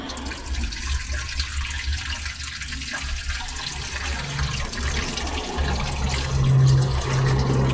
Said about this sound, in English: Going to turn on the valve here, the tap.